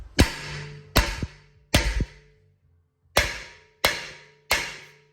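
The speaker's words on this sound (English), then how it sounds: "I'm gonna grab my hammer and I'm gonna tap it on the side here, opposite directions until the rust is broken" A hammer strikes a rusted rear brake rotor on the hub of a BMW 325i/328i: six sharp, ringing metallic blows, close and loud, with short pauses and a longer gap between the first three and the last three.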